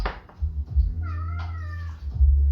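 A cat gives a low, rumbling growl up close that rises into a drawn-out, whining meow, with the deep rumble continuing underneath.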